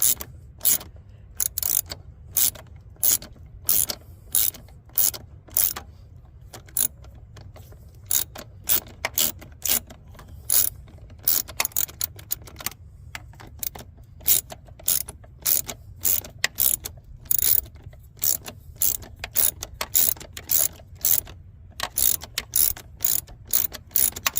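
A ratchet loosens the throttle body bolts on a 2007 Dodge Ram Hemi, clicking in rapid, close bursts of pawl ticks separated by brief pauses, with no talk.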